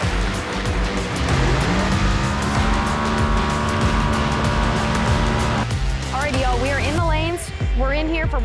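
A fast drag racing car at a Street Outlaws event roars loudly and continuously, its engine note climbing through rapid upshifts near the end, with tire noise and crowd sounds mixed in.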